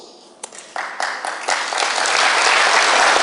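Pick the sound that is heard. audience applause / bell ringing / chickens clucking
audience applause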